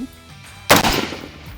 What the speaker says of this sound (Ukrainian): І я виконую перший постріл.